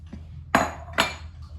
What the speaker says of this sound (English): I am going to mix the dry ingredients